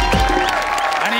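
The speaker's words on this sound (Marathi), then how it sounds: "एकदा जोरदार टाळ्या" A studio audience at a Marathi TV comedy show claps steadily and densely while a host's voice carries on over the applause.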